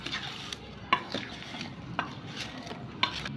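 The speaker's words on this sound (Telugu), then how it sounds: "ఇలా మంచిగా కలుపుకోవాలి" Spoon stirring mango pickle mixed with fenugreek powder, chilli and salt in a bowl, soft close scraping with a few sharp clinks against the dish, quiet overall.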